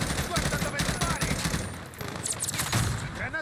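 Rapid bursts of machine-gun fire in an Xbox shooter game, dense and continuous over a steady din, with a player's voice talking in places.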